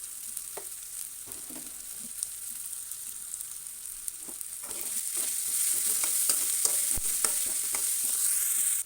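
Onions fry in a pan for a dry fish curry, a steady close sizzle broken by scraping stirs, growing louder and fuller partway through.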